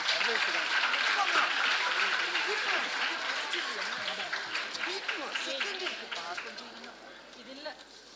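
Audience applause at a school award function for a student team, a broad wash of clapping that starts strong and slowly thins out over several seconds, with faint talk mixed in.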